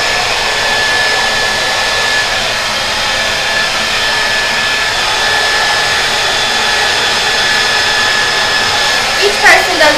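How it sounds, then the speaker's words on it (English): A hair dryer set to medium heat blows steadily as it dries natural hair, a continuous close whir lasting throughout, with a few faint handling bumps near the end. "Then I'm gonna put it on medium and warm."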